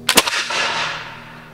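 A flintlock musket fires at an 1836 Fourth of July historical reenactment: a sharp crack with a quick double report, followed by a long fading rumble and echo outdoors, loud and close with no talk.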